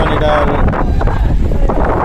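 Strong wind buffets the microphone aboard a boat on rough, wavy water, producing a loud, steady, close roar through the whole brief moment.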